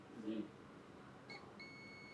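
A multimeter gives a steady continuity beep across the base and emitter of a shorted transistor on a dead EV charger board. The faint, sustained tone begins after a brief murmur of voice.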